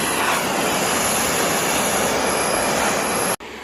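A Harbor Freight propane torch heats a stuck part on a 1952 Studebaker 2R5 truck, giving a loud, steady roaring hiss that cuts off abruptly near the end.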